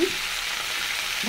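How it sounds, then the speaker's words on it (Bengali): Spices sizzle and fry in a pan for a fish curry with beans and potatoes, giving a steady loud hiss with brief stirring at the start and end. "ভালো করে ভেজে নেব আমি"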